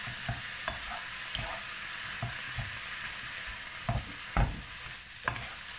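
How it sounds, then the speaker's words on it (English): Minced beef sizzling in a frying pan while being stirred, a soft steady crackle broken by repeated scraping knocks of the utensil against the pan, close and fairly quiet with no talk. "fry the corn minced beef until it's actually brown"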